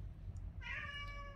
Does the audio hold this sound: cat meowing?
yes